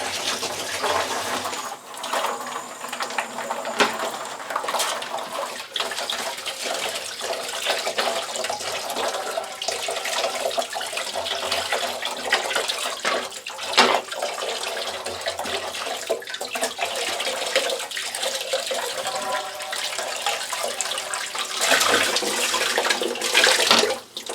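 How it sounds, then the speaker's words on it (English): Water rushing steadily through a home water softener filter as it is flushed out, a continuous broadband hiss and splash that holds nearly unchanged for about twenty seconds, with no voices. "I'm actually going to flush out the filter as well."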